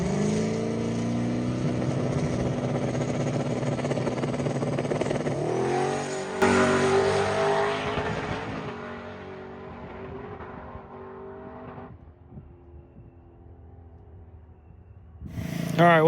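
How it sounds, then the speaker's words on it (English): A turbocharged race car makes a pass on a rented drag strip. Its engine roars with a strong, steady tone, stutters and breaks up around the middle, then fades into a distant drone before a short, loud burst near the end. "The car was breaking up a bunch."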